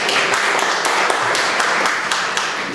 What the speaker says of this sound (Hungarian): egy kisebb tapsot azért megérdemel